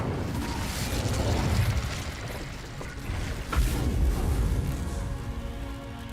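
An Incendio fire spell is cast in Hogwarts Legacy during combat, giving a broad, noisy burst that flares twice amid continuous rumbling battle sound. There is no speech.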